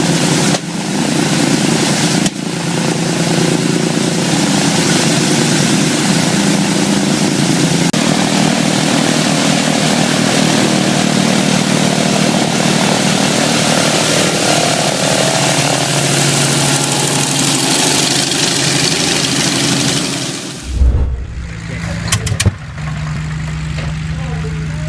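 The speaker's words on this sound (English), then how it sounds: "This legendary radial engine stands out for its exceptional power-to-weight ratio and combat-tested durability." A historic radial aircraft engine of the type that powered the Douglas A-26 Invader runs with a loud, sustained, rumbling propeller roar, then cuts abruptly near the end into a few rough coughs and quieter sputters.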